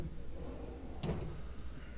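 Side drawer accessory on a U.S. General Series 2 tool box in a Harbor Freight store, opening on smooth bearings with one brief, faint sliding clunk in an otherwise quiet space.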